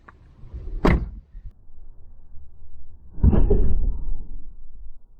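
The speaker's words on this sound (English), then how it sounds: "Show you guys what the car does when you slam a door shut" A Land Rover car door slammed shut twice, each a sharp, close, heavy thud a few seconds apart, with a low rumble between them.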